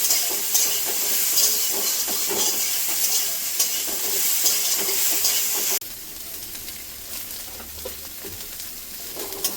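Raw papaya curry frying with turmeric, giving a loud, dense, steady sizzle and hiss from a hot pan that drops suddenly to a quieter sizzle partway through.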